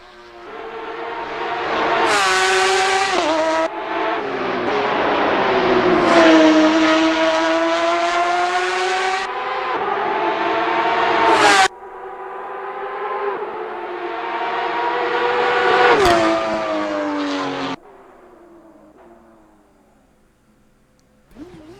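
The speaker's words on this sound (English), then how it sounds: "this one has the sound mod, so pretty much looks and sounds like a 2018 911 RSR" A 2018 Porsche 911 RSR race car engine in the sim racing game Assetto Corsa screams through high revs, climbing and dropping through gear shifts, loud and close with no voices.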